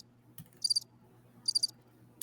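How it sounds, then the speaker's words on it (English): Crickets chirp in two short, high trilling bursts about a second apart, fairly faint over a low steady hum and room noise. "That's some nice crickets right there."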